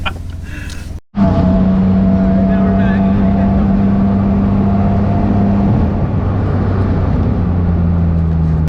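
A BMW E28 race car engine accelerates after a brief cut, a loud, close, droning roar heard from inside the car that holds a steady pitch before easing slightly, with some talk underneath.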